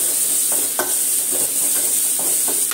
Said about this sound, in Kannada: ಇದು ಚೆನ್ನಾಗಿ ಫ್ರೈ ಮಾಡ್ಕೊಳ್ಳೋಣ.